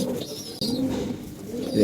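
Pigeons in a loft give soft, low, throaty coos in a brief continuous murmur, close by, with no talk.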